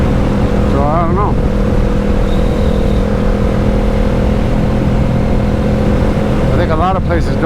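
A Kawasaki Ninja motorcycle on an early morning ride, heard as a steady engine drone with heavy wind rumble throughout. Brief rising whines come and go, and someone talks over it.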